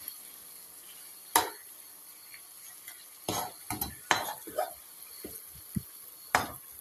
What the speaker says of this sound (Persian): میذارم یه مقدار مرغم یه مقدار کوچولو تفت بخوره با سوی زیاد